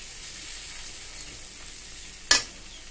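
Ground spices and chilli powder fry in a pan for kochu dal, giving a continuous close sizzle, with one sharp clatter of a utensil near the end.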